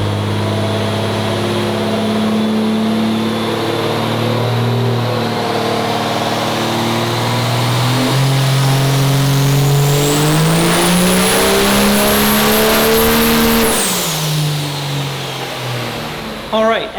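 A 5.9L turbocharged fuel-only race truck engine of over 1200 hp on a power run, droning loudly and climbing steadily in pitch with a whistling turbo whine before cutting off sharply near the end.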